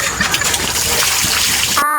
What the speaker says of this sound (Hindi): थोड़ा आओ पानी डाल दे बेटा।